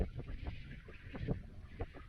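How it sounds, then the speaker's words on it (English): Strong wind gusts outdoors in a bare-treed orchard, heard as a steady, fairly faint low rumble and buffeting across the whole stretch. "wind, lots of wind."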